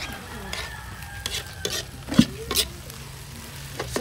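Spring onions picked from the yard being stirred into a cooked dish in a pan, with several sharp spatula scrapes and clacks over a faint sizzle, close and alone.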